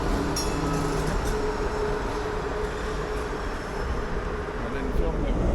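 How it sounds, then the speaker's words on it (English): An old Melbourne tram rolls past, a continuous mid-distance rumble and rattle of wheels on track, with faint squeal at moments and no clear talk. "One of the old trams."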